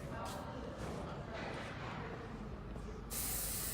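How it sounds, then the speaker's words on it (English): Texture spray is misted onto curly hair during a layered bob haircut, in several short hissing bursts with a longer, brighter spray near the end, close and fairly soft. "It's a lightweight spray. It's a texture spray."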